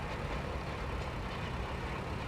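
Tractor engine in Farming Simulator 22, a quiet steady low drone of the motor driving through a field, even and unbroken throughout with no talk over it.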